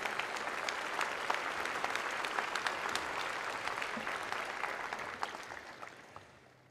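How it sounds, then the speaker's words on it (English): A crowd at a Hawaii governor's inauguration applauds, with sustained clapping and a few sharp individual claps standing out, gradually fading toward the end. "Let's round of applause for Twinkle, an amazing human being."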